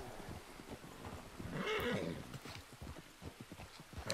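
Horse hooves clip-clop in Red Dead Redemption II, a steady close rhythm of footfalls joined by a whinny partway through, with game ambience underneath.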